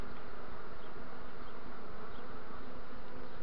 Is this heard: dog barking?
no